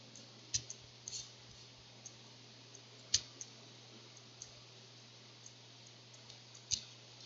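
Several faint, sharp mouse clicks spaced irregularly against a steady low hum, with one slightly louder click in the middle.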